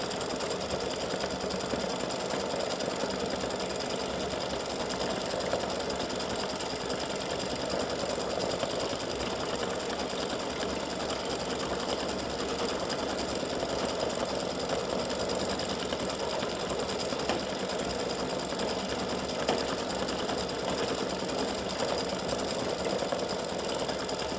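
A sewing machine stitches a four-leaf clover design for St Patrick's Day earrings and pendant, running in a steady, continuous mechanical whir close by for the whole stretch, with no voices.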